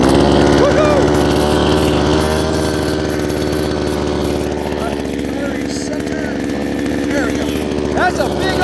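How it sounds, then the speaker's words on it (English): Engine-powered earth auger boring a footer hole in the ground for a solar panel carport, a loud steady small-engine drone running throughout at close range, with a person talking over it. "That's a big old auger now."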